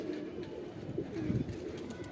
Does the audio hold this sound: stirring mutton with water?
no